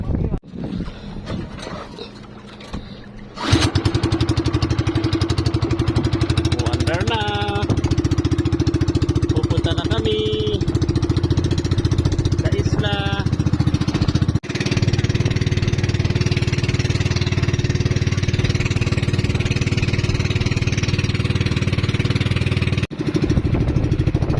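A motorcycle engine that had stalled on a trip toward a white sand beach restarts and then runs loud and steady at close range, with brief revs, after a short stretch of quieter handling noise.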